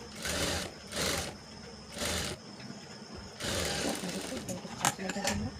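A sewing machine stitches lining fabric onto a princess-cut blouse in short repeated bursts, the mechanical whir starting and stopping several times close by with pauses between runs.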